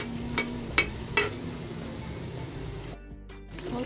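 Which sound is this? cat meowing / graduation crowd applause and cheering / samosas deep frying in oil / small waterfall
samosas deep frying in oil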